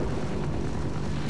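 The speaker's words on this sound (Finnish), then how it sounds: "Perkelee helikopteri." A helicopter in the game Half-Life fills the scene with a dense, continuous roaring wash, loud and steady with no break over the short stretch.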